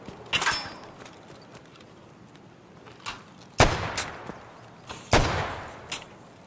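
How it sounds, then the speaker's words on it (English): Suppressed gunshots in Escape from Tarkov, a handful of sharp muffled cracks spaced irregularly, two of them louder and nearer, over quiet background with little talk. "I don't even know where these shots are coming from. They're suppressed."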